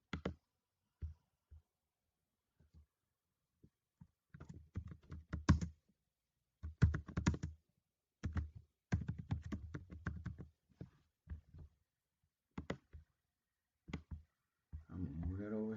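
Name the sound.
typing on a computer keyboard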